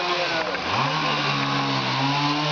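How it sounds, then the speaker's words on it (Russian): Trees being felled by chainsaw in Gorky Park, Kharkiv: the saw's engine drops in pitch, then climbs and holds a loud, sustained, buzzing whine throughout. "Вот сейчас люди пилят непонятно почему деревья."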